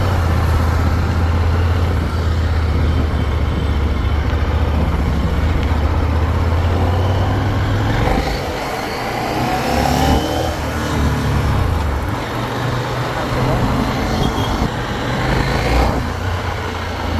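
A KTM 890 Duke R motorcycle on a test ride gives a loud, continuous engine drone with low rumble and rising and falling revs, steady throughout, with no talking.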